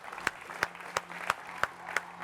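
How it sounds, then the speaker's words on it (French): An audience applauds for Zénab Bossé on a live studio show, with faint, steady rhythmic claps at an even pace throughout. "On applaudit pour Zénab Bossé."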